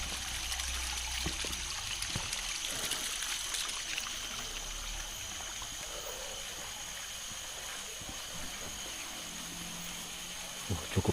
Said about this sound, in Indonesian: Hanya ya seperti gemericik air terjun super mini di situ.